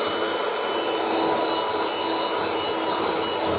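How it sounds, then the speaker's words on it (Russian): A blender kneads pie dough, whirring continuously at high speed, a steady, bright, noisy grinding with no breaks and no voices. "И продолжаем месить блендером."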